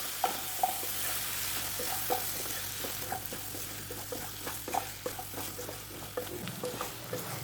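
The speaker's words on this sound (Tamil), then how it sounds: "இந்த எண்ணெயிலே 2 நிமிஷம் நல்லா வதக்கி விடுவோம்" Brinjal and drumstick pieces sauté in hot oil, a steady sizzle with repeated scraping stirs tapping the pan in an uneven rhythm, close and continuous with no talking.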